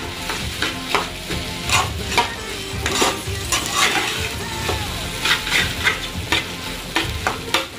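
Nasi goreng fried rice being stirred in a hot pan, a continuous sizzle broken by repeated scraping strokes of the utensil against the metal, close and steady with no talking.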